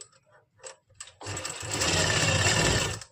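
A sewing machine runs small stitches along a kurti hem, starting after a few soft taps and handling noises, then a steady close whirring clatter that holds for nearly two seconds before stopping.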